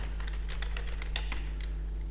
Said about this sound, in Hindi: अपने कीबोर्ड की मदद से हमने लिखना है 2 और फिर हमने इंटर दबाना है।